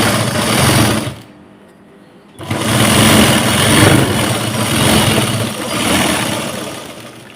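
A sewing machine stitches a quarter-inch hem seam on a blouse, running in a loud, close, rapid mechanical whir that stops briefly for about a second, then resumes and continues steadily to the end.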